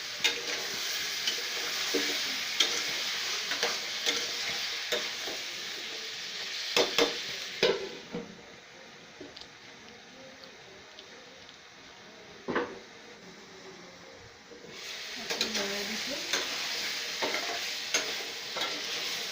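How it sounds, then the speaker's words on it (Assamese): Pumpkin and paneer sizzle and fry in a pan while being stirred, with a steady hiss broken by scraping stir strokes and a few sharp clinks. The frying fades partway through and then returns. "মই লৰাই আছোঁ।"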